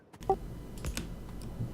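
Rapid computer clicking and key taps during a Factorio gaming session, a quick irregular run of light clicks close to the microphone, fairly quiet and without speech.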